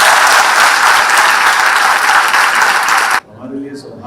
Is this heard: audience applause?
yes